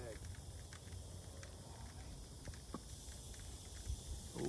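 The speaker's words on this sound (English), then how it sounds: "That fucking hissing noise annoying me." A steady, close hiss from a leak at an outdoor New Year celebration near a fire runs continuously, with voices talking faintly underneath.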